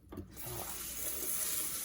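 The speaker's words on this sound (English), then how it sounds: "you want to rinse it until it's pretty clear" Sushi-grade short-grain rice being rinsed in water: steady running-water and swishing wash noise, fairly quiet and continuous after a brief start, with no talking.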